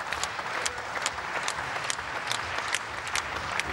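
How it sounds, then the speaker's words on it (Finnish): A volleyball crowd claps in a steady rhythmic beat, loud and dense, with a continuous wash of applause behind the pulses. "Yleisö taputtaa rytmikkäästi, kun Penjan syöttö on murhava vitosnurkkaan."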